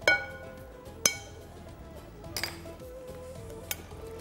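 A utensil stirring yellow food colouring into a laddu mixture in a glass or metal bowl, with a few sharp isolated clinks spread over quiet mixing, close and fairly soft.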